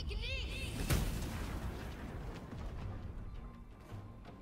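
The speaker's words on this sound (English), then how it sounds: "I basically just set off some fireworks." A spell in the Baldur's Gate 3 video game sets off fireworks-like explosions: a sharp crack near the start followed by rumbling bursts and popping that fade over several seconds.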